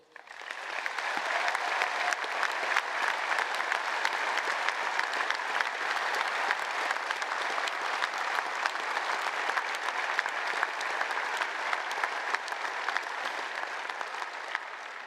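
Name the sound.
graduation ceremony audience applause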